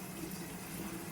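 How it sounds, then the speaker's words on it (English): Hot water runs steadily from a tap during maintenance of a Rheem tankless water heater, a soft, even rushing flow that stays constant and fairly faint. "I'll turn hot water here."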